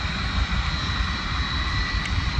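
Engines of a Boeing 757 jetliner near Manchester Airport's viewing park produce an even, sustained roar and whine at close range, unbroken throughout and free of voices.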